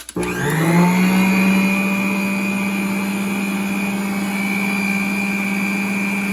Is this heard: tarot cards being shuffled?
no